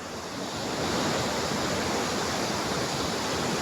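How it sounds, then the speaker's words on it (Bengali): Water pours from Bindu Dam in Kalimpong district, West Bengal, near the India-Bhutan border, as a loud, continuous rushing roar that stays steady with no pauses. "তো চলো ড্যাম থেকে কিভাবে জল পড়ছে দেখো, জলের আওয়াজ তো শুনতেই পাচ্ছ।"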